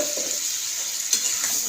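Spice paste of ginger, cumin and chili with tomato sizzles and is stirred in a pan, a soft close hiss with faint scraping for a brief moment.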